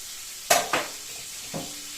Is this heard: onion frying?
yes